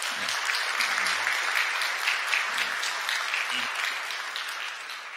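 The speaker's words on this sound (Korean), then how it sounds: "여러분들 환영의 박수 부탁드리겠습니다" A church congregation claps steadily to welcome new members at a Sunday morning service, a dense even applause that tapers slightly toward the end.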